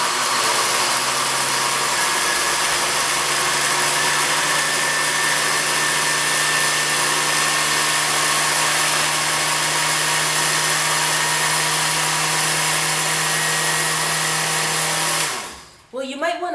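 A kitchen blender runs on its grind setting with a loud, steady motor whine close by, holding constant for about fifteen seconds before spinning down abruptly.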